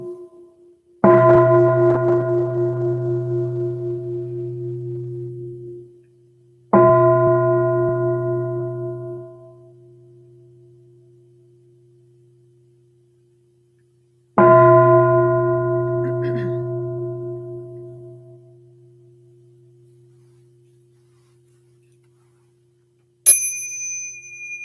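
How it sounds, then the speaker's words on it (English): A meditation bell is struck three times with clear, ringing strikes at spaced intervals. Each tone sustains and slowly fades in a quiet room, and a short high chime follows at the end. "So let's begin with 3 sounds of the bell."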